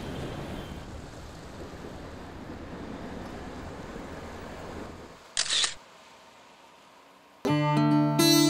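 A phone camera shutter fires once with a short, crisp click for a selfie, after a long spell of soft ambient noise, and is followed by a louder burst of tonal music.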